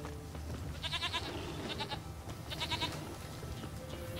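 Several short goat bleats sound in the video game Witcher 3, in two clusters over a steady background ambience, moderately close and without speech.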